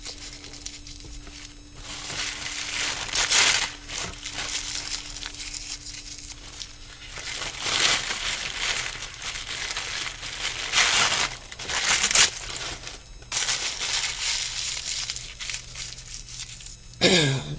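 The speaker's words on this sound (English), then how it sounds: "And I'm just going to wad up some little balls of tissue paper" Tissue paper crumpled and wadded into small balls by hand, a steady run of close crinkling and crushing bursts with brief pauses in between, no talking over it.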